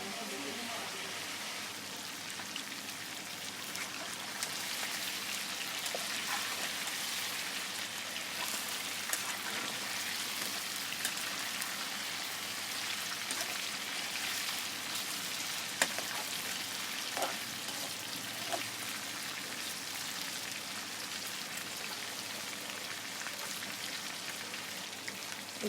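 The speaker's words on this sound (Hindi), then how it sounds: "यहाँ पर मैंने चिकन को अच्छे तरीके से भून लिया है" Chicken for degi chicken korma fries in a pot, giving a quiet, steady crackling sizzle like light rain that continues evenly throughout.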